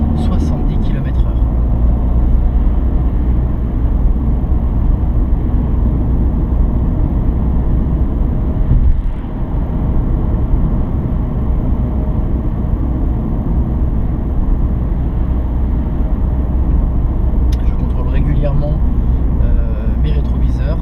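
Car engine droning steadily as the vehicle speeds up from 50 to 70 km/h on a road during a driving lesson, a continuous close cabin rumble with an instructor talking over it throughout.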